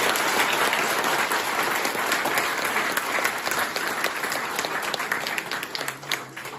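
An audience applauds loudly and continuously, a dense wash of clapping that slowly fades toward the end, with a voice briefly heard beneath it.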